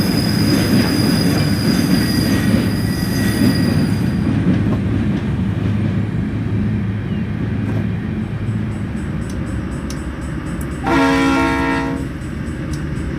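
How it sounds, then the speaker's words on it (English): A London Underground 1938 stock Class 483 train in Train Simulator 2014 rumbles loudly and steadily with squealing wheels and rail noise, then a short horn blast sounds near the end. "the train that we've been seeing is the iconic Class 483, otherwise known as London Underground 1938 stock"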